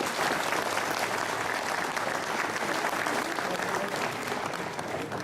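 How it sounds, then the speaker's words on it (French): An audience at a regional motocross enduro league gathering hosted by a motorcycle club applauds itself, a dense, steady wash of many hands clapping continuously, broad and full, with no voice over it. "vous pouvez vous applaudir"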